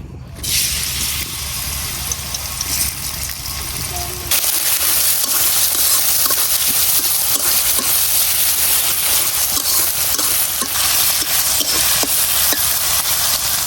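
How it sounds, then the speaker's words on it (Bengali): Onion, garlic and ginger fry in hot oil in a wok, a loud, steady sizzle that swells sharply after a few seconds and then holds, with faint stirring scrapes throughout. "পেঁয়াজ আর রসুনটা আমি যে একদম লাল করে ভাজে নিছি।"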